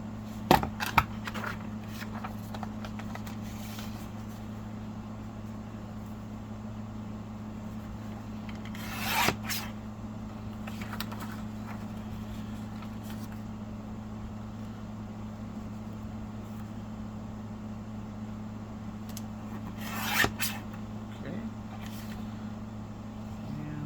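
Paper being trimmed for a craft folio, a long steady rasping, rubbing cut under a constant electrical hum, with a few louder sharp scrapes and clicks at the start, middle and near the end.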